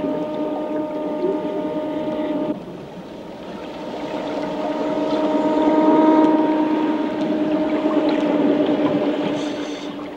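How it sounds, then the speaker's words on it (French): Electric underwater scooters run as divers explore the sea off Cocos Island, a steady close motor whine with a constant tonal hum over a bubbling, watery wash, dipping briefly then swelling louder; no one speaks. "Aujourd'hui, on sort les scooters électriques."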